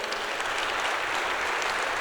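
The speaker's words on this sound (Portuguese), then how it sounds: "Aplauda o Senhor nesta manhã." A church congregation claps continuously, a dense, even round of applause with no pauses and no voices standing out.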